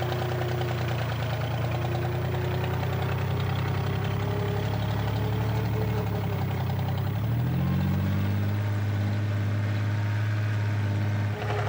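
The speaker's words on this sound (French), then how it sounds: "le tracteur patine." A small tractor hauling a train on narrow-gauge rails laid across a peat bog strains up a ramped incline, its engine droning loud and steady while the wheels slip, pitch shifting partway through, with no voices.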